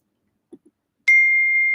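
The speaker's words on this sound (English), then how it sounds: "Oh, not my phone going off already" A single phone notification ding rings out clearly, a bright sustained tone that holds for under a second after two faint soft taps, with no talk over it.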